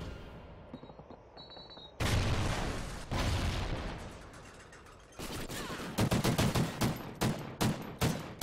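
In a competitive video game match, a weapon sprays in sharp bursts of gunfire. After a quiet opening, the shots come in clustered volleys with brief gaps and grow more staccato toward the end.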